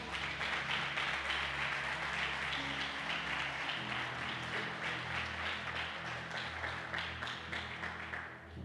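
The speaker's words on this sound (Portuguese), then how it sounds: "Você pode aplaudir Jesus, o Rei da Glória?" A church congregation at Novo Tempo Comunidade Profética applauds in a steady, dense wash of clapping that holds for the whole stretch, with sustained low keyboard tones underneath.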